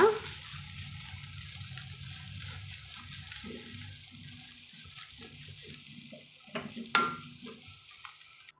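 Black nightshade greens stir-fry with freshly grated coconut is mixed in a pan: soft scraping and shuffling of a spoon over a faint sizzle, with one sharper clatter toward the end and no talking.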